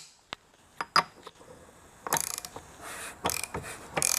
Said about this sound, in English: Now I'll take a ratchet and a socket.